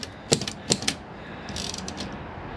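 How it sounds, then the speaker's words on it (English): An old typewriter being handled and tested: a few sharp mechanical clacks and snaps, then lighter rattling and clicking of the mechanism, quiet and close with no talk. "I'm over here checking out this typewriter."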